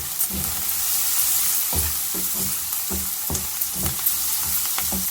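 Vermicelli pulao sizzles in a pan as turmeric goes in, a steady frying hiss broken by a run of soft stirring knocks and scrapes, close and without talk.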